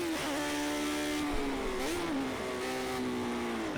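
A race car engine in Project CARS 2 drones loudly and steadily, its pitch dipping and rising as it blips down through the gears, with the downshifts slightly sloppy.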